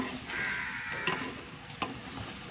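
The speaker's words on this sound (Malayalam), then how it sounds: "ചേമ്പില് നന്നായി വഴറ്റി എടുക്കട്ടെ" Taro (chembu) being sautéed in a pan, giving a steady soft sizzle with a couple of brief scraping stirs against the pan.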